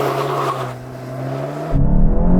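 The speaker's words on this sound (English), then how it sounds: "Let's see how quick this GTI is on the launch." Volkswagen Golf GTI Mk8.5 launching hard from a standstill, its engine note building steadily over a couple of seconds and then jumping louder and deeper as it pulls away, heard from inside the car with no talk.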